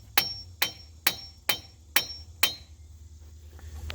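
A hammer beats on a car ball joint during a replacement: six sharp metallic blows at an even, deliberate pace, close and ringing, then stopping.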